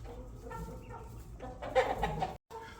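Chickens cluck softly in a coop in the evening as they settle for the night, a close cluster of murmuring calls that rises into louder clucks before cutting briefly silent.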